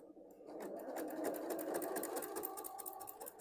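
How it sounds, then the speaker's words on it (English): A sewing machine stitches a fabric pouch along a marked line, a steady rapid mechanical whirring and ticking heard close and fairly quiet, with no voices. "I'm going to start stitching in the line that I made with the hair marker"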